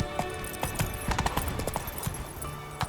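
Roach the horse trots in The Witcher 3, hooves clip-clopping in a steady, close rhythm with a faint snort, no talk over it.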